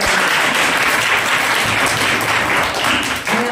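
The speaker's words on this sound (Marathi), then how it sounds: "एकदा जोरदार टाळ्या वाजवून सर्वांनी स्वागत करायला" Loud, dense applause from a crowd welcoming a kabaddi team at a tournament gathering, sustained steady clapping that fills the whole stretch with little talk beneath it.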